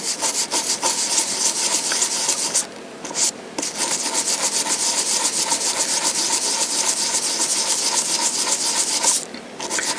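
An old coin rubbed gently with a very mild abrasive paste, giving a continuous close, loud scrubbing sound with steady back-and-forth strokes and two short pauses.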